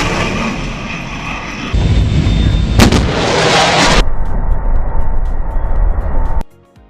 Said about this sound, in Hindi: इसी वजह से आपको धमाके की आवाज सुनाई देती है और इसे सोनिक बूम कहा जाता है।